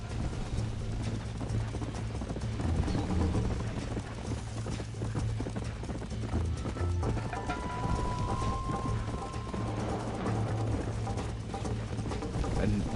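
In Red Dead Redemption, a horse's hooves clip-clop steadily and loudly throughout, mixed with rain and a low rumble of thunder, while someone talks over the game.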